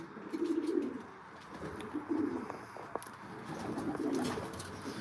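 Racing pigeons coo in their loft, with low rolling coos repeating in three bursts over a steady murmur of other birds and faint rustling.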